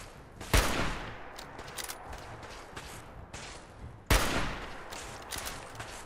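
Two loud, sharp hunting rifle shots in the Fallout 4 video game ring out about three and a half seconds apart, each with a short echoing tail, followed by faint rattling and clicks.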